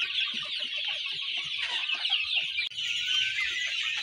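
Local chickens being raised for sale cluck steadily in a flock, a continuous close chorus of overlapping calls with no voices.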